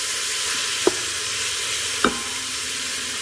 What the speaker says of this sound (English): I'm going to try to saute in batches